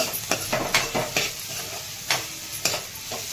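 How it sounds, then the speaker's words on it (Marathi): Sprouted horse gram sautéing in oil while a spoon stirs steadily, soft sizzling underneath a string of close scraping strokes against the pan, and no voices. "आता आपण हे हुलगे मोड आलेले टाकून घ्यायचे. हे असे तेलामध्ये छान असे परतून घ्यायचे."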